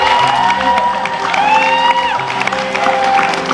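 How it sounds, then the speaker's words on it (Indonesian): A television studio audience on a talk show applauds in a loose, mid-level wash of clapping, mixed with some cheering and background tones, continuing throughout. "Boleh minta tepuk tangan ya, Ibu?"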